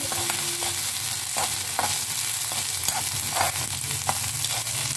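Ingredients for a Tamil thugayal being sautéed in a frying pan, with steady close sizzling and scraping stirs throughout, no voices.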